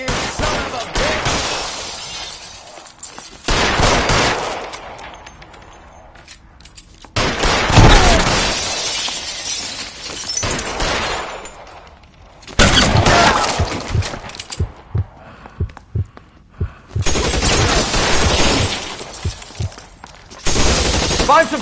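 Gunfire rings out in an L.A. Noire shootout: several long, loud bursts of rapid shots, separated by short quiet gaps, with breaking glass mixed into the barrage.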